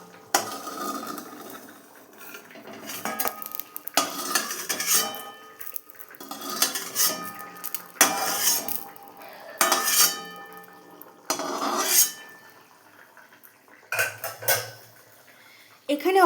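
Fried neem leaves are lifted out of a wok with a metal utensil, giving repeated loud scraping and clinking bursts against the pan, separated by short quiet gaps.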